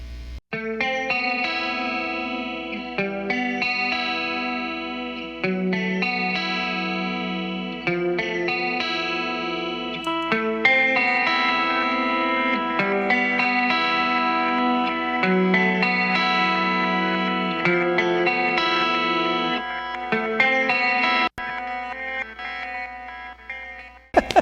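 Electric guitar with chorus sends its main tone, then more amps and pedals kick in, a wide swirling sustained chordal part that plays steadily for over twenty seconds with a faint low hum beneath.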